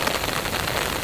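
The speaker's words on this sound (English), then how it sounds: "It's raining so hard" Heavy rain pours steadily during a Colorado or South Dakota backpacking trip, a dense, even hiss of downpour soaking trees and ground. It is close and continuous for the whole moment, with no voices.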